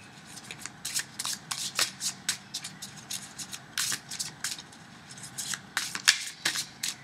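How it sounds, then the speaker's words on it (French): A tarot deck being shuffled by hand, with a continuous run of crisp riffling and flicking bursts in quick, uneven rhythm, close and moderately loud, with no talking. "je vais faire un mélange comme ça"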